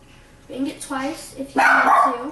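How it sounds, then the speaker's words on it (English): A pet dog barks in a home kitchen during egg cooking, several short barks close by under and between a person's speech. "Sorry about my dog in the background."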